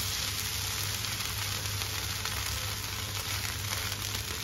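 A rice-flour ghavan crepe fries in a pan with a steady, close sizzle, even and unbroken the whole time with no talking.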